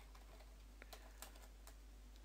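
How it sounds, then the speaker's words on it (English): Computer keyboard keys tapped while typing a command, a few sparse soft clicks close by over a low steady hum. "you want to type in the following"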